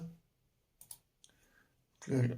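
A few quick, light computer mouse clicks in near silence, followed by the start of a voice speaking Polish.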